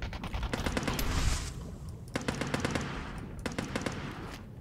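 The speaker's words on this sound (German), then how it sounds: "Und die Schüsse sind direkt vor mir." Rapid bursts of automatic gunfire in the video game Last Tide crackle in quick clusters, mid-distance, over a steady noisy background with no talking.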